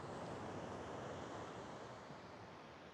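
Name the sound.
waves breaking close to the shore, Gulf of Nicoya beach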